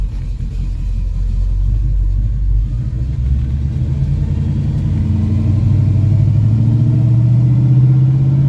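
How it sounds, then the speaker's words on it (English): A 1981 Chevy C10 pickup's engine rumbles low and loud up close as the truck rolls down a driveway, a steady deep drone that swells slightly toward the end. "we'll roll it down to the end of the drive there and then park it outside for the day"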